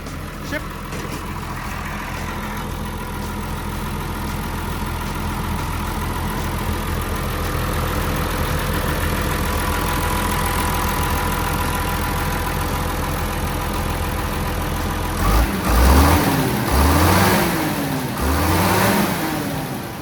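A TCM L27-3 wheel loader diesel engine runs at a steady, throaty idle for a long stretch, then the note rises and falls a few times as it is revved near the end.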